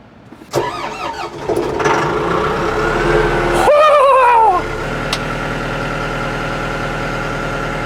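A bulldozer's diesel engine runs close by with a brief rising whine and some clunks, then settles into a steady, loud idle rumble.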